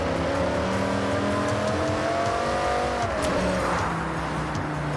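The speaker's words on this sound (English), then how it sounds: "The car sounds nice too." A car in the Forza Horizon 6 racing game holds a loud, sustained engine rev that sags briefly midway, with tire squeal mixed in and no talking over it.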